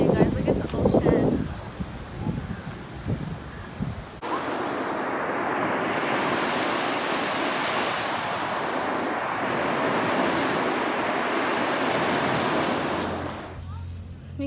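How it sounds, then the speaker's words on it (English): Ocean surf rolls onto a sandy beach in a steady, continuous roar with wind buffeting the microphone, following a few seconds of voices talking at the start. "look at the ocean"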